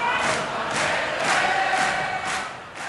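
A carnival audience at a televised session roars and chants together, a dense mass of voices rising and falling in waves with no end in sight, no single speaker heard.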